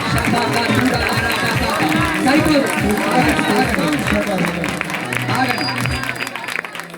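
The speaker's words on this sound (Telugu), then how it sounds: "నోరు తెరిచి ఈ మీటింగ్స్ అద్భుతంగా జరిగినందుకు గట్టిగా చప్పట్లు కొడుతూ స్తోత్రాలు చెప్పండి" A church congregation at a worship meeting claps and praises loudly together, a dense, sustained wash of applause and voices throughout, with a speaker's voice over the crowd.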